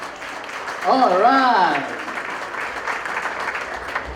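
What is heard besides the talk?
audience applause for the princess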